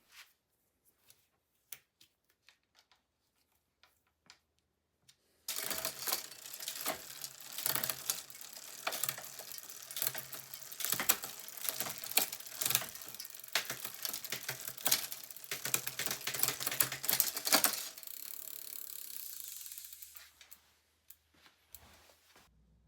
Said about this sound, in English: the rear derailleur does its job and we can cycle through all the gears